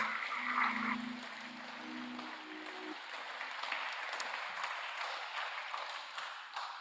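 Audience applause at a Pacific data visualisation challenge prize ceremony, a steady wash of clapping from a crowd that continues throughout, with a brief musical tone and voices over the opening seconds.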